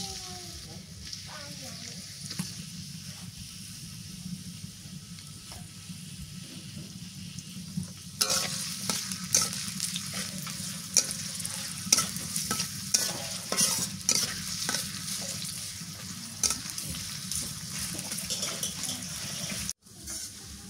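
Onions fry in oil in a pan over a clay stove, a soft hiss that swells into louder sizzling with repeated stirring scrapes from about eight seconds on, heard close, with faint speech in the background.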